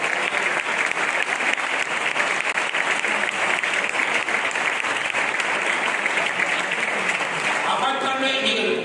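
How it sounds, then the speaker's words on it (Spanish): A church congregation applauds during a sermon on eschatology, a dense, steady wash of many hands clapping that holds at full strength for the whole stretch, thinning slightly at the very end. "Aplaude a Dios siempre a él"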